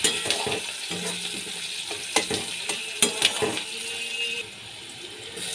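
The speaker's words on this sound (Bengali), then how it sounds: "পেঁয়াজ আমি ভালো করে ভেজে নিচ্ছি।" Chopped onions, with black cumin seeds, fry in a pan for a katla fish curry, a steady sizzle broken by several sharp scraping stirs and knocks of a spatula, close by with no talking.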